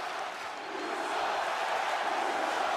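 A wrestling crowd at an independent show reacts to a wrestler facing Logic DGC, a steady broad roar of many voices that swells slightly and holds throughout, distant and diffuse.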